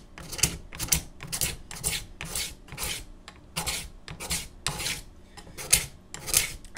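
Brazilian rosewood guitar side being scraped thin with a hand scraper, a series of close, dry rasping strokes in an uneven rhythm with short pauses between passes.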